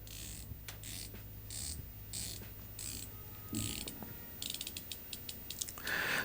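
Ratcheting bezel on an affordable mechanical homage dive watch turned in bursts of rapid fine clicks, close and quiet, with short pauses between turns and no talking.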